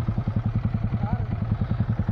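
A motorcycle engine idles close by with a steady, lumpy low thumping as the bike is parked under a bridge in a hilly area of Assam, while people talk over it.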